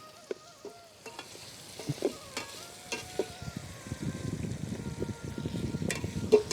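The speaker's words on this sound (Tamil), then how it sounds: "இந்த ஹீட்லேயே வந்து எண்ணெயிலே வந்து வதங்கிடும்" Cassava pieces sauté in hot oil in a pan over an outdoor fire in the forest, with a soft steady sizzle, occasional stirring clinks and scrapes, growing busier toward the end.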